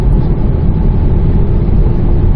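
A 2020 Kia Niro accelerating hard on an open road, a loud, steady interior engine and road roar filling the low range for the whole short stretch, with no talk.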